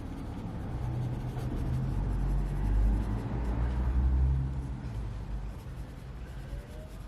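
Derwent pastels scraping across paper in a steady, continuous scratchy rub, close and moderately loud with a low rumbling background and no speech.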